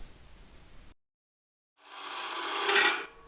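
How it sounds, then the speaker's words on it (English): The outside of a wooden hollow form turning is sanded on the lathe, a close, breathy rasping hiss that breaks off into silence for about a second, then returns and swells louder before fading. "sand and finish the outside of the vessel as you would any turning"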